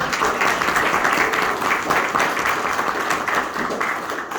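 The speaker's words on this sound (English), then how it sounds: "Let's give them a round of applause." Audience applause at a county Democrats dinner, a dense sustained round of many hands clapping that fills the room evenly from start to finish, with no talk over it.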